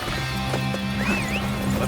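Horse hooves galloping in the video game Dynasty Warriors Origins, a rapid clip-clop drumming under game music and battle noise, with a horse whinny rising briefly in the middle.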